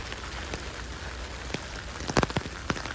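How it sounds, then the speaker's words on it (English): Steady rain falls at Charleston Tea Garden in South Carolina, making a constant hiss, with a few louder drops tapping nearby surfaces toward the end. "really raining."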